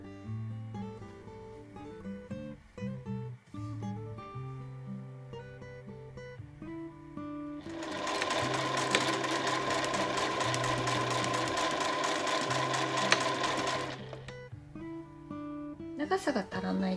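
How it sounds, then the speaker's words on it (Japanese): An overlock serger runs in one fast, steady burst of about six seconds while edging the side seams and hem of a gathered camisole dress, with quieter sewing sounds and a voice speaking before and after. "作業しやすいように両脇と裾にロックミシンをかけています"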